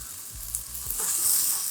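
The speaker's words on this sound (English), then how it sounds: "add in some turmeric, add in some of the podina or the broadleaf thyme" Turmeric and broadleaf thyme (podina) sizzle as they drop into a hot pot for Trini curry chicken, a steady close frying hiss that swells louder toward the end, with light stirring clatter at the start and no talking.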